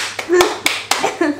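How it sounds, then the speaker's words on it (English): A few sharp hand claps, about four, spaced irregularly and fairly close, with a person's voice murmuring underneath. "Clap for yourself."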